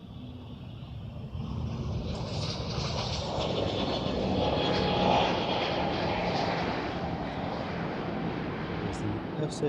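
An Air Transat airliner in FC Montreal livery takes off at Amsterdam Schiphol, its engine roar rising suddenly and holding as a steady broad rush at moderate distance.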